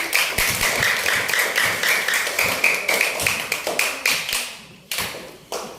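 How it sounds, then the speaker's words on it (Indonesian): A classroom of students claps together in rhythmic, sharp bursts, close and lively, the clapping pulsing in waves before a brief pause and a final few claps. "Tepuk tangan untuk Rara Kuping."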